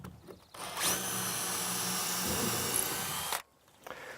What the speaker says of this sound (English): pre-drill your holes like so